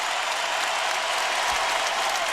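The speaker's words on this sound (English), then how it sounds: "listen to the crowd respond to Kendall Marshall" Dense, continuous applause and cheering from a large arena crowd at a North Carolina versus Florida State college basketball game, loud and unbroken throughout.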